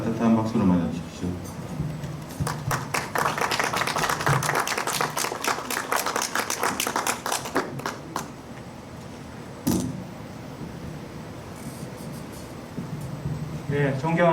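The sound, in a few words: audience applause welcoming the association president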